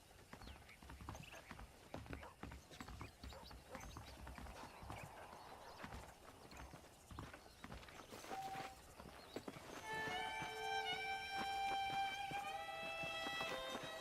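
Horse hooves clip-clop steadily in the Western game Red Dead Redemption, close and rhythmic as a horse walks along, with a neigh and game music swelling in toward the end.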